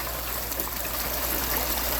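Water flows steadily through the sump of a saltwater aquarium with a mangrove bed, a continuous loud rushing trickle with a low pump hum underneath, close and unbroken.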